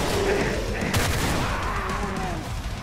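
Gunfire rattles in Brutality Testing, a retro 16-bit style shooter, as dense overlapping volleys of shots run continuously over a loud, busy background.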